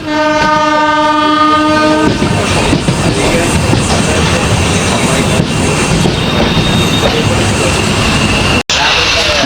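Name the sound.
passenger train running, Sairang to Kolkata Express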